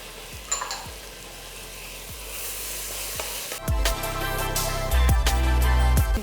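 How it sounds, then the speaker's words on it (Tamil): Onions and chopped tomatoes sizzle and fry in a pan at home, a steady crackling hiss with occasional stirring knocks, growing louder and denser as the tomatoes go in. "வெங்காயம் வதங்கிட்டு இருக்கும் போதே ஒரு 3 தக்காளி நறுக்கி வச்சுருக்கேன்"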